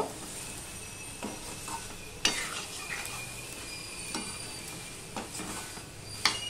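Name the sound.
stir-frying papaya, potato and soybean curry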